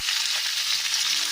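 Chopped vegetables stir-frying in a hot pan for chilli chicken, a steady dense sizzle with soft stirring texture, close and continuous without talk.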